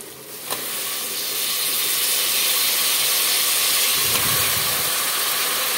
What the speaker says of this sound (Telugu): కడిగి పెట్టుకున్న చికెన్ ఇప్పుడు నేను వేసేస్తాను దీంట్లోకి